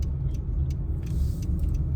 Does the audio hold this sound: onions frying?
no